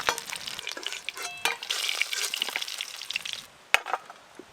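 Fish frying in a pan spits and crackles in bright bursts, with utensil scrapes and a sharp clink near the end, close and fairly quiet with no talk.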